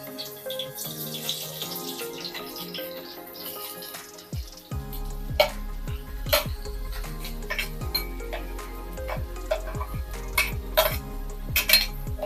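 Metal utensils clink and scrape against a pan as onion is moved into heated oil. The sharp, repeated clatter sits over a steady background hum.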